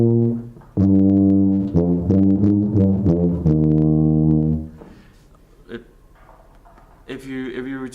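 A tuba plays a short etude phrase, loud sustained low notes broken by a brief breath gap partway through. A quieter passage and faint sounds follow after the phrase ends.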